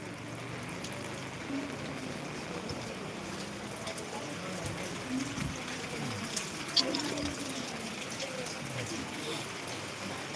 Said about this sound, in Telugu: వర్షం అయితే కొంచెం ఎక్కువైందని చెప్పొచ్చు